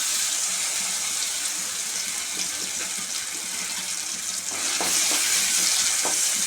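Coriander chutney with curry leaves sautés gently in a pan over a low flame, giving a soft, steady hiss close by, with a few faint stirring scrapes near the end and no talking.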